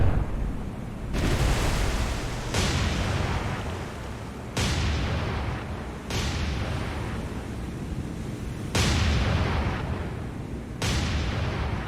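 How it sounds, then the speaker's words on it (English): Heavy destroyer guns in the naval video game War On The Sea fire about seven loud, booming salvos, each one a broad blast that rolls off and decays into a long rumbling tail before the next shot lands. "I meant to fire these guns."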